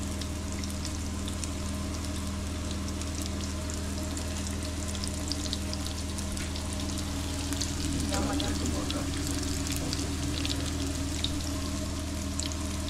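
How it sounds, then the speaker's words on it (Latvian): Fish sizzles and spatters steadily in a hot frying pan, a continuous close crackle over a low steady hum for the whole stretch, with no talking. "Un tagad smuki cepjās."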